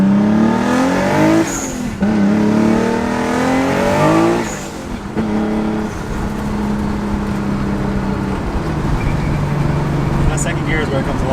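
Nissan 300ZX twin turbo engine on a dyno, loud and close, revving up through rising harmonic sweeps with brief drops between gears, then holding a steady high drone toward the end.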